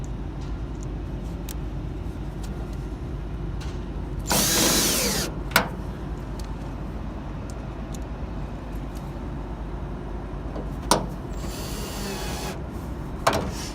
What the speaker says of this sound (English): screw those same screws onto your downspout